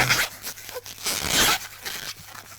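Latex balloons squeaking and rubbing as they are twisted into a clownfish shape, a few short close squeals and stretchy scrapes in quick bursts with brief pauses between.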